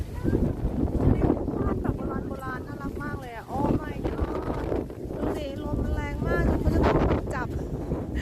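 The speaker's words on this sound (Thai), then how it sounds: "อากาศดีมากเลยค่ะ แต่ว่าลมแรงมากเลยอ่ะ" Strong outdoor wind buffets the microphone in a Texas bluebonnet field, rumbling gusts throughout while someone talks over it.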